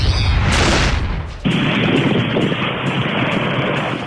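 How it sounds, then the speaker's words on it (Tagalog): Strong waves and typhoon wind, from Typhoon Pablo, pound the shore at The Boulevard in Surigao City, a loud continuous roar of gusts buffeting the microphone, with a heavy surge crashing in partway through. "ni Hughes Cooper Apple May Bonite, makikita ang malakas sa paghampas sa mga alon at hangin sa The Boulevard"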